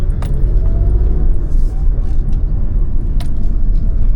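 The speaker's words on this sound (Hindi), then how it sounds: "मन होता है भगाने का गाड़ी को।" Alto K10 car driving fast along a favourite stretch of road near HPU Shimla, heard as a loud continuous engine and tyre rumble from inside the cabin with a few faint clicks.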